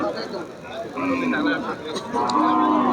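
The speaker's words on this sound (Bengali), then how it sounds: "দেখুন দর্শক গাই গরু এই পাশেও আমরা দেখতে পাচ্ছি" Cattle low repeatedly amid a busy outdoor crowd at a cattle market, with people chattering and calling around them and a constant murmur of market noise.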